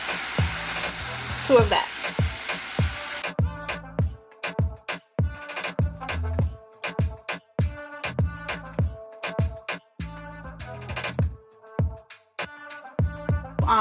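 Onions and peppers sizzling in a pot, with a spoon stirring and scraping in irregular clanks and knocks throughout; a voice speaks briefly early on over the loud frying.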